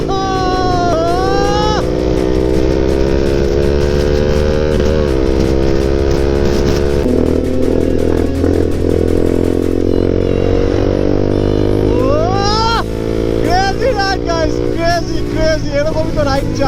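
A KTM RC 390 motorcycle is ridden hard, its engine loud and close, revving up through rising gears with drops between shifts and a sustained high-pitched drone.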